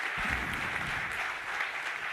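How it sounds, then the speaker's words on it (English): An arena crowd at a fight event applauds the fighters. The dense, continuous clapping fills the space evenly for about two seconds, with no clear voices above it. "give a round of applause for our fighters."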